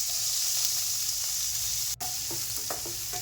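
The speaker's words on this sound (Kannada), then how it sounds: "ಆನಿಯನ್ನ ಎಣ್ಣೆಯಲ್ಲಿ ಫ್ರೈ ಮಾಡ್ಕೊಳ್ಳೋಣ." Two large onions sizzle steadily in hot oil in a pan for a tomato kurma, with a continuous bright frying hiss and a few light scraping stirs near the end, no voices.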